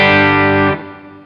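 An electric guitar plays through a Tech 21 SansAmp Fly Rig into an amp for a Fender-like overdrive, one loud distorted chord held and then quickly fading.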